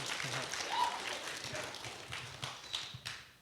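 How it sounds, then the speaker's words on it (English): Crowd at an evening church worship service applauding, a soft scattered clatter of many hands that swells briefly and then thins, heard from a distance. "Give a round of applause to the Holy Spirit one time."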